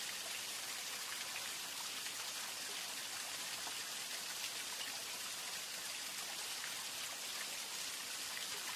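Steady rain in a cartoon pours down continuously, a dense even hiss of drops with no voices or other sounds standing out.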